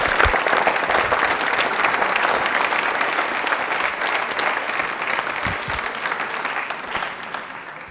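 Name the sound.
audience applause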